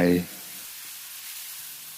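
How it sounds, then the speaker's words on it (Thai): A brief voice, then pounded yellow chillies hiss and sizzle steadily in a hot wok with minced garlic, a soft, even frying sound. "จากนั้นใส่พริกเหลืองที่เราตำไว้ลงไป"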